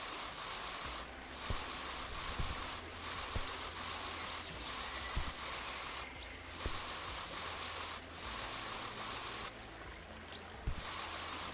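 Continuous hissing spray from a nozzle in Monuments Flipper, cleaning stone at the Pont du Gard, running in sustained stretches with short pauses between passes and one longer break near the end, with no voices.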